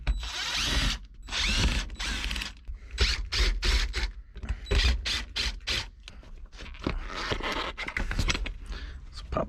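A ratchet is worked on the bolts of a Toyota's shifter assembly during a clutch job, producing rapid bursts of clicking strokes with brief pauses between them, close up and with no talk over it.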